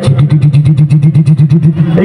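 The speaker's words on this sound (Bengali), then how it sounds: "আমি বাইক স্টার্ট দিলাম" An engine idles with a rapid, steady putter, loud and close, a motorcycle chugging evenly with no voices over it.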